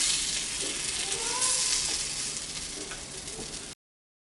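Corn paniyaram sizzling in a pan over a low flame, giving a steady soft frying hiss that stays close and fairly even, then fades slightly before cutting off.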